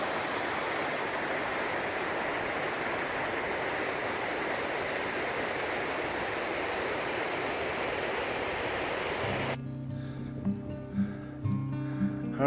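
Steady broadband rush of Reed Creek flowing beside a mountain trail, close and continuous for most of the stretch, then giving way abruptly to quieter low rumbling near the end.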